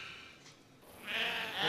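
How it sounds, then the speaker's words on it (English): Sheep and goats bleat in a short burst, a quieter call at first and then a louder, drawn-out bleat toward the end, with no talk over them. "The sheep yield but little wool, and their meat isn't fit for the dogs."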